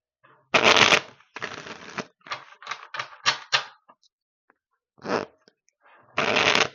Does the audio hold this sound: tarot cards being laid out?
yes